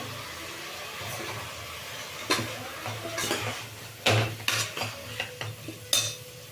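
Ingredients frying in a little oil in a pan for a sprouted horse gram curry, turmeric added, with a steady low sizzle under repeated clinks and scrapes of a spoon stirring against the metal pan.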